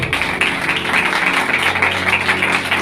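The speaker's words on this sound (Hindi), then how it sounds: "खुदावंद के जलाल के लिए जोरदार तालियां बजाएंगे" Loud, sustained applause from a church congregation at an Easter Day sermon, dense clapping with no pauses for about three seconds.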